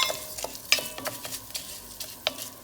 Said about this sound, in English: And we're going to toast that rice a little bit.